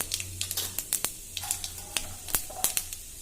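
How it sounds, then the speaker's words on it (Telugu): Cumin seeds sputter in hot oil, a faint, close hiss broken by sharp crackling pops spaced irregularly throughout. "ఇప్పుడు కొంచెం జీలకర్ర వేద్దాం"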